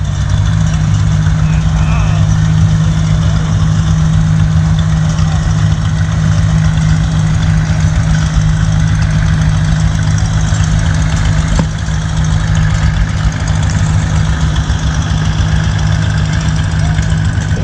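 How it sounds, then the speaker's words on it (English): Several tractors idle together at a harvest festival show, a loud, continuous low engine rumble that holds steady throughout, with someone talking briefly over it. "Okay, we got several tractors here. Got a couple more rolling in."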